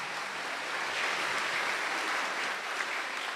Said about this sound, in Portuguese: uma salva de palmas para as crianças